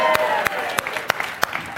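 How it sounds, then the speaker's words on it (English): Applause from an audience welcoming Tom Shaw to the stage at a live reading event, a short patter of claps with a few sharper individual slaps standing out. "So would you give a big round of applause to Tom Shaw?"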